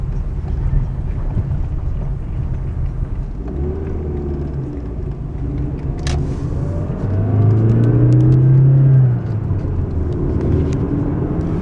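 A 1987 Toyota Camry, after a dragging-brake fix, hums steadily as it rolls along, with low road rumble and wind noise, rising briefly to a louder drone midway.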